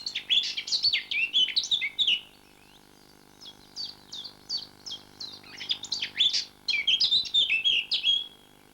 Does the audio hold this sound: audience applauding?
no